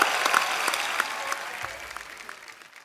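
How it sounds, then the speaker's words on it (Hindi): Loud studio audience applause for a comedy show fades gradually over a few seconds, dense clapping with no voices over it. "मेरे दोस्त के लिए जोरदार तालियां पहले तो"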